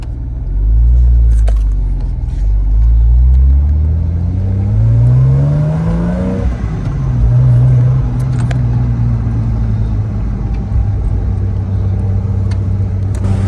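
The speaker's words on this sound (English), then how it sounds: "Gotta love the downshifts too." Porsche Boxster engine revving loudly up through the gears, then dropping sharply in pitch as it downshifts and settles into a steady rumbling drone close by.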